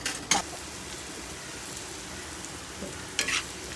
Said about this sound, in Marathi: हे असं छानपैकी भाजून घ्यायचा कांदा